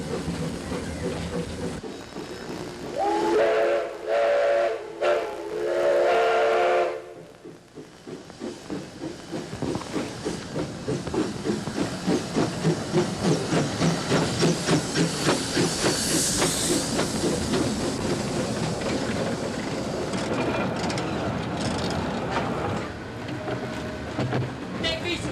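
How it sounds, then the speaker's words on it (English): An 1881 narrow-gauge steam engine, number 41, pulling a passenger train, with a steam whistle blast early on and then continuous hissing and chuffing as it runs, mixed with crowd noise. "Mighty steam engine number 41 was built in 1881."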